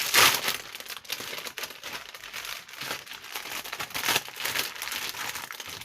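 Plastic packaging on a LEGO Chima magazine gift is torn open close up, with continuous crinkling, rustling and tearing bursts; no one talks.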